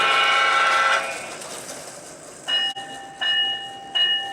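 A Lionel LionChief model train on an overhead layout in a man cave sounds its remote-triggered horn: one long loud blast fades out, followed by three short, clear honks in quick succession.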